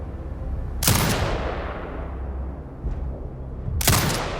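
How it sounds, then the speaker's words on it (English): Heavy turret firing in Sniper Ghost Warrior Contracts 2, set in the Grey Desert: two loud, booming shots about three seconds apart, each with a long rumbling tail, plus a faint crack between them. "Exit binocular mode and command the turret to fire."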